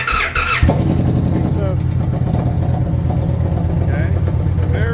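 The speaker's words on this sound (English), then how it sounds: "let's listen to this Indian Challenger" An Indian Challenger motorcycle engine starts with a sharp catch and then runs at a loud, steady idle close by, with someone speaking over the deep rumbling exhaust.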